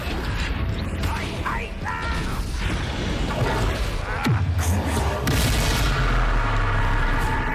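Spell blasts and magical combat in the Hogwarts Legacy video game: dense, loud layered effects rumble continuously, with a deep boom about midway and crackling bursts after, and a voice faintly beneath.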